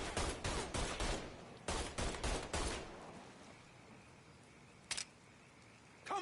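Gunfire in Mafia III comes in rapid, loud bursts of shots, then eases to a couple of isolated single shots after a short lull.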